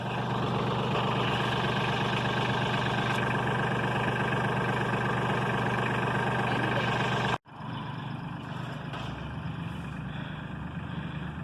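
A truck engine idles with a steady low rumble, cuts off abruptly partway through, then a softer, rougher running noise continues.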